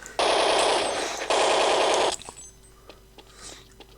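Rapid automatic AK-47 fire from Counter-Strike 1.6 (zombie-style mod), two loud continuous bursts of about a second each with a short break between, then quiet with faint clicks.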